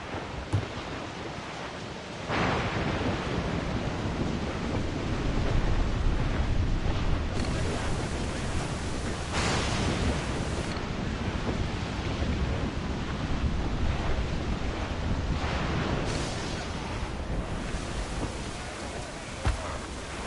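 Rushing, roaring water from a ship sailing through a waterfall in the pirate game Assassin's Creed 4, a steady loud wash like heavy rain that swells in several bursts across the stretch.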